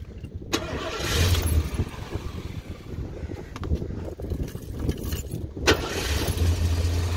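A 1971 Ford Mustang Mach 1 V8 running close by, a steady rumbling idle with a sharper burst of revving near the start and again toward the end, no talking.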